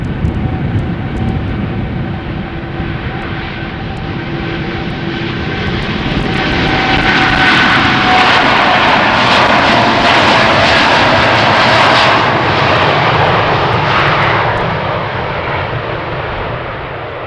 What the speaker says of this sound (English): If I zoom out a little, you can see also the other planes lining up